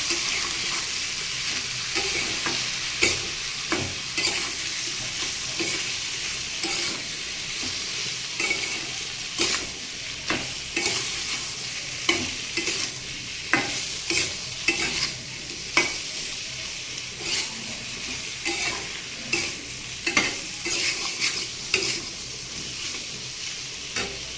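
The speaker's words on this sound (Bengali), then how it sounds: "এখন এটাকে নেড়ে চেড়ে মিশিয়ে নেব।" Vegetables seasoned with salt and turmeric being stirred and tossed in a hot pan, a steady fry sizzle punctuated by regular scraping strokes of the spatula, close up and without voices.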